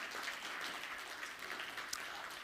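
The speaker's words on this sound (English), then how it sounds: "Let's give them a round of applause" Faint, distant audience applause at a financial analyst awards ceremony, a soft continuous patter of many hands without voices.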